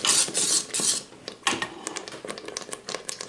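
Mac and cheese being stirred in a Cookeo multicooker pot, giving a run of close scraping and clinking strokes of a utensil against the pot, loudest at the start and then settling into lighter, irregular taps.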